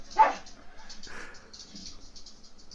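A dog barks once sharply near the start, followed by quieter yips and whimpers against a faint indoor background, close to the microphone.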